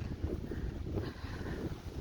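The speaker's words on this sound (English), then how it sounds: "I hope the wind doesn't sound too much." Steady low rumble and buffeting of wind hitting the microphone on a side trail near cranberry bogs and fields, continuous and fairly loud throughout with no talking.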